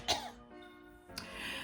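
A storyteller voices hens with a single quiet cough, a short throaty burst at the start followed by a softer second breathy sound near the end, heard alone without speech.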